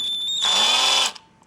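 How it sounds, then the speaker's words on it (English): A rotary tool spins with a high whine, then a thin drill bit bites into solder on a 12 volt adapter's circuit board with a rough grinding burst lasting under a second before it stops. "I'm using a very thin drilling tip to make a hole."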